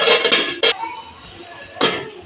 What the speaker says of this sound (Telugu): కొంచెం ఒక్క నిమిషం అండి మూత పెట్టుకుందాం